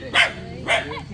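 Two sharp dog barks, close and loud, about half a second apart, at a rural house, with faint background noise between them.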